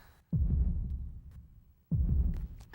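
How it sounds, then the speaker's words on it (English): Deep, heavy pulses of the moon's heartbeat from the game The Legend of Dragoon, two loud throbs about one and a half seconds apart, each with a sharp low onset and a long rumbling decay. "There's the moon's heartbeat again."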